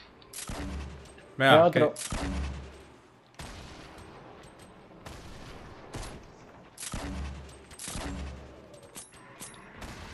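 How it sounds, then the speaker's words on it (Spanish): Gunfire in the battle royale game Fortnite, several sharp bursts of shots scattered across the stretch, some loud and close, mixed with people talking. "No, pero estoy disparándole."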